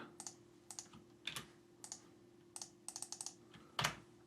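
Someone typing a redirect URL on a computer keyboard in a quiet room, short bursts of close, crisp key clicks with brief pauses between the groups and no talking.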